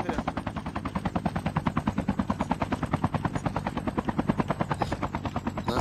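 A helicopter in the mobile shooter Call of Duty Mobile, its rotor chopping in a fast, steady, close thump, with rapid gunfire woven through the pulsing beat throughout.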